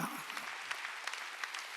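Congregation clapping at a Sunday church service, a dense steady patter of many hands filling the short stretch at moderate level, with no distinct voices rising above it.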